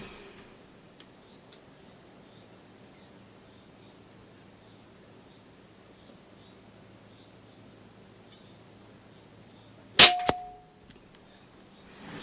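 A single sharp shot from a Snowpeak M60 .22 (5.5mm) air rifle cracks out near the end after a long quiet stretch, followed by a brief metallic ring and a smaller trailing snap.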